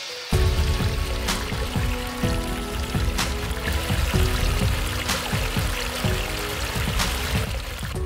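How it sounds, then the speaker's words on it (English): A small backyard pondless waterfall runs continuously, water splashing and trickling over rocks in a steady, close, fairly loud flow with scattered drips, and no voices. "Even though this pondless waterfall may seem a bit small,"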